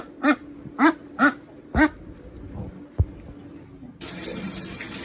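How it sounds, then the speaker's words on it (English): A dog gives four short, sharp yelps and a few quieter whines, then spraying water from a shower starts suddenly and hisses steadily. "She's giving them a shower."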